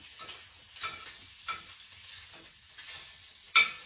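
Bacon frying in a skillet gives a steady, soft sizzle with a few brief pops and crackles, and one sharper spatter near the end; no one speaks.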